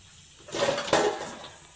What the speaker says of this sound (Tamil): ஒரு அளவான சின்ன வடைச்சட்டி வச்சுக்கலாம்.